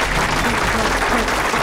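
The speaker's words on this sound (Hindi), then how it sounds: "चलो ताली बजाओ" Loud, dense clapping from a group fills the entire short moment as a continuous wash, with a low rumble underneath and no clear voices on top.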